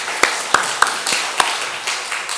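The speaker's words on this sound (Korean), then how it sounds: "하나님께 영광의 박수 돌려드리겠습니다." Church congregation clapping to give glory to God, heard as a handful of sharp, separate claps at uneven intervals that fade into softer, scattered taps.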